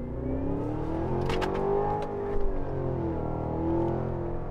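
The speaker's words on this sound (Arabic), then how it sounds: "يعني حضلني ابرم رايح جاي رايح جاي بس اسمع صوت الاكزوست." A Cadillac Escalade V's exhaust revs up and down, a deep engine note rising and falling in sweeping pulls, loud and close, with a brief sharper burst midway.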